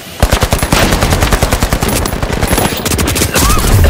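Rapid automatic gunfire in a video game, loud and close, with long bursts of evenly spaced shots running almost continuously and a brief lull in the middle.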